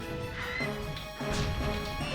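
A bird smacked in The Legend of Zelda: The Wind Waker, a sharp thwack followed by squawking bird cries and game effects layered over background music, all fairly loud.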